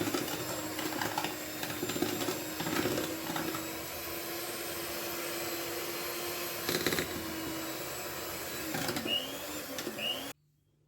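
An electric mixer beats cake batter combined with egg whites for a Christmas tea cake. Its whirring motor hums steadily with small surges of rattling, then cuts off abruptly near the end.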